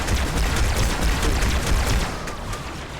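Dense, rapid gunfire from the video game Halo 2 crackles continuously in overlapping bursts, loud and chaotic like a heavy firefight, with no voices.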